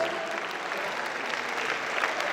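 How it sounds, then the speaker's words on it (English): Audience applause for a keynote speaker at a pharmacy conference, a steady dense clapping held at an even level throughout, moderately distant and without talk over it. "A round of applause, please, for our keynote."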